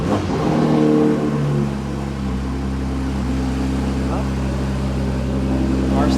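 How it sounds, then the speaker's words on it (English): A Porsche GT3 engine runs with a steady low rumble and idle hum at close range after starting, the tone holding even for several seconds while a person speaks over it. "start to clutch in, engine start"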